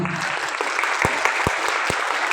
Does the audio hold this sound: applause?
yes